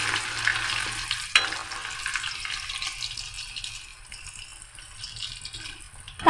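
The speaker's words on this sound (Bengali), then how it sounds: "ফার্স্ট আমি আলুটা ভেজে নেব।" Potatoes fry in hot oil in a pan over low heat, giving a soft, steady sizzle with one sharp clatter early on. The hiss fades gradually toward the end.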